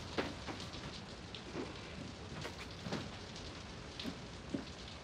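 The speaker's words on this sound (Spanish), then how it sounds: "Llueve mucho," Heavy rain falls steadily on outdoor surfaces in a continuous soft hiss with scattered louder drops, quiet and distant, with no voices.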